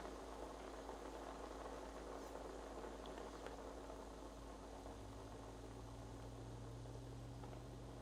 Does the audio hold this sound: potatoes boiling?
yes